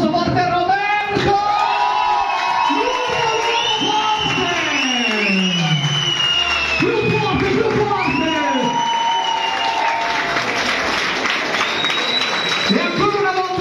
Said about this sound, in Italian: lo facciamo un applauso forte a Roberto!